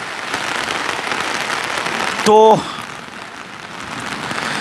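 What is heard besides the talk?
heavy rain falling at farmers' protest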